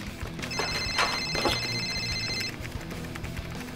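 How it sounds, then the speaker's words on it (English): Telephone ringing indoors, a repeated electronic bell-like trill that sounds for a couple of seconds and stops, moderately loud against a low room hum with no speech. "That noise. I think it's the phone."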